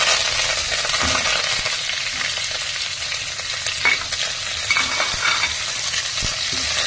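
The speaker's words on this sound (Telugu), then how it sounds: "ఆవాలు వేగుతున్నాయి. మనం ఆనియన్, కరివేపాకు," Mustard seeds, onion and curry leaves fry in hot oil for a mutton and flat bean curry, giving a steady dense sizzle with a few sharp crackles and pops throughout, close and loud with no talking.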